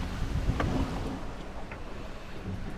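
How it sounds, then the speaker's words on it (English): A sailboat moves across open sea through the Tuamotus, with wind buffeting the microphone and water rushing past the hull in a steady close wash. "So right now we're sailing through the Tuamotus."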